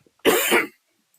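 A single short, sharp cough, close and loud, surrounded by silence.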